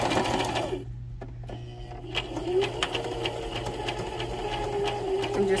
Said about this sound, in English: And just do a back stitch to close that off.